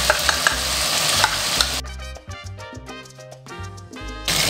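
Mutton for a Mughlai mutton karahi fries and is stirred in a pan, with a loud close sizzle and scraping at the start and end; a stretch of music interrupts the middle.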